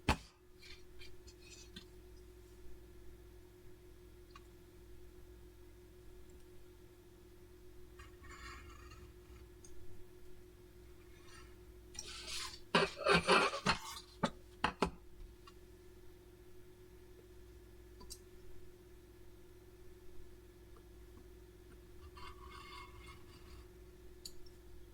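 Scissors snipping through a folded craft card, a short run of crisp close cuts in the middle of an otherwise quiet stretch with faint handling noises.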